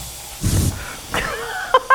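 An Instant Pot pressure cooker gives a short burst of steam hiss, then a thinner whistling release follows, with a couple of sharp electronic beeps near the end; no one talks.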